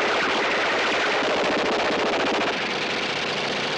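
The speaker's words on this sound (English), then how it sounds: "It's a funny old classic where you get to watch Clint Eastwood and Richard Burton shoot a bunch of Nazis up with MP40s." Continuous rapid automatic fire from MP40 submachine guns in the trailer for the 1968 war film Where Eagles Dare, a dense, loud, unbroken rattle lasting about four seconds.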